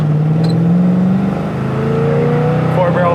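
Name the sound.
1972 Monte Carlo V8 engine revving, four-barrel carb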